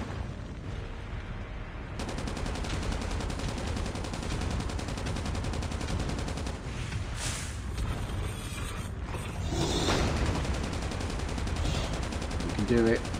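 Steady sustained RPD machine gun fire aimed at a boss in the video game Call of Duty: Mobile, a dense continuous rattle of rapid shots running for many seconds amid busy game sounds.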